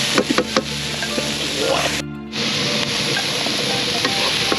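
Fish frying and being stirred in a pan for southern Lao village-style fish larb, a loud continuous sizzle with scraping stirs and a brief break in the middle.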